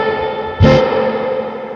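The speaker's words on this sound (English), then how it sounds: "Why don't you get into some of the higher reverb settings?" An electric guitar played through a 1974 Fender Princeton Reverb amp with the reverb set high rings out in a sustained, cavernous wash after a single struck chord, loud and close.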